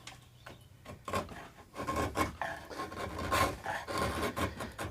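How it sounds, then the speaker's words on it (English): A flat-backed inside ground gouge pares away a bandsaw cut on a wooden guitar part, giving repeated close scraping, rasping strokes in an uneven rhythm with no talking. "just want to get rid of this bandsaw cut. So I've got an inside ground gouge"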